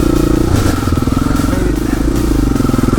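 KTM 500 EXC-F dual sport motorcycle ridden on a trail near Lake Isabella, its single-cylinder engine loud and close with a rapid thumping pulse and slight revving throughout.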